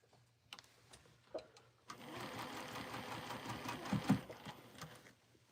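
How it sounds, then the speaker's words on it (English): A sewing machine stitches quilt pieces together right over the pins, running steadily for several seconds after a couple of faint clicks, close and moderately loud with no talking. "Here I go. I'm sewing it together."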